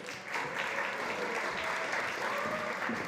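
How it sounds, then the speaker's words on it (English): Steady applause from a crowd fills the whole moment, even and moderately loud, with no pauses. "Round of applause for her, please."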